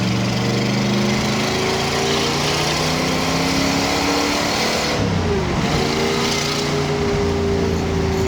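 A 1969 Chevrolet Corvette ZL1 accelerates hard, its engine rising through the revs in sustained loud sweeps, easing briefly and then climbing again on a second pull; no talking.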